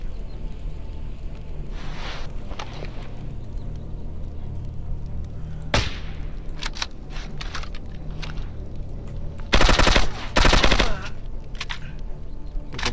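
Gunfire in the shooter game S.T.A.L.K.E.R. Anomaly: a sharp single shot, then a couple of louder bursts of rapid fire later on, over a constant low rumbling game ambience, with no speech.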